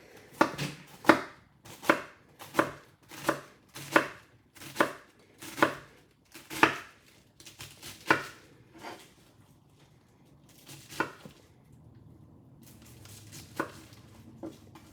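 Knife chopping through cabbage on a flat cutting board for a chicken and cabbage salad: about a dozen sharp, evenly spaced close chops, then a pause and a few slower, lighter cuts, with no talking.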